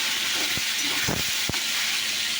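Water poured into a hot pan of cooking papaya and potato sets off a steady, loud sizzling hiss, with a few brief pops and bursts rising above it.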